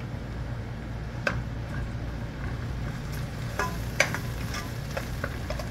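A pan sizzles steadily while shrimp curry cooks with turmeric, curry, chili and coriander powders, and water is added to it. A constant frying hiss runs under a few soft clinks and stirring taps, with no voices.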